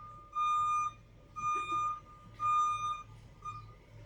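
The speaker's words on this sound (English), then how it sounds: "We'll wait for the beeping to go away" A truck out on the street beeps in three or four evenly spaced, fairly loud electronic bursts, each lasting about half a second, over a low background rumble.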